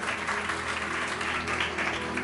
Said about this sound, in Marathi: परमेश्वराला पुन्हा एकदा जोरदार टाळ्या वाजवून आम्ही धन्यवाद देऊया